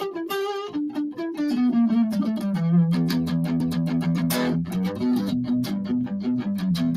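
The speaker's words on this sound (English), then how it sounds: "Palm muting is stuff like this." Electric guitar riff played with palm muting, a string of short, percussive, damped notes in a fairly steady rhythm, close and moderately loud with no voices.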